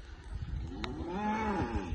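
A cow at a livestock sale gives a loud, close, drawn-out moo with a rising then falling pitch, lasting most of the two seconds over faint background noise.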